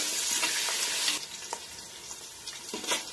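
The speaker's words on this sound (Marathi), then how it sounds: "आता याच्यामध्ये भाजण्यासाठी जो कांदा घेतलाय तो कांदा घालायचा। कांदा चांगला भाजायचा।" Onion frying in a pan for Maharashtrian masale bhat, a steady close broadband sizzle throughout with a few brief crackles and scrapes, no talk.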